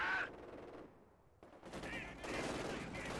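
A machine gun fires from inside a building in a World War II tank-battle video game, sounding as fairly faint bursts of rapid shots that grow denser after a brief lull.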